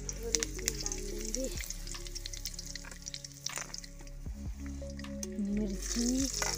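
Leftover rice and roti frying in a pan for a breakfast snack, a steady close sizzle running throughout with occasional stirring clinks and scrapes.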